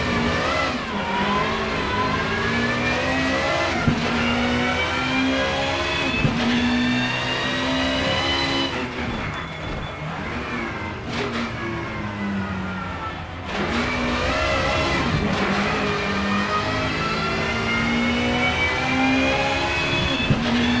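A Peugeot 406 BTTC race car engine revs up and down repeatedly, pitch climbing and falling through gear changes, with a brief lull midway before revving hard again.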